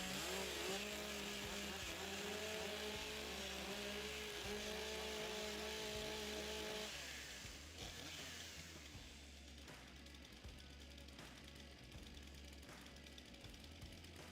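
Several STIHL MS661 professional chainsaws warm up together at an Australian timbersports championship, a loud sustained buzzing drone with revving, wavering pitch that eases off in the second half into a steadier rumble.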